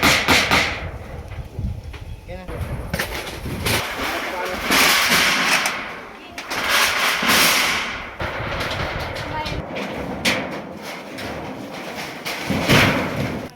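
Sharp metallic hammer blows ring out repeatedly at an uneven pace while roofing with metal sheets, fairly loud and close, with voices talking in between.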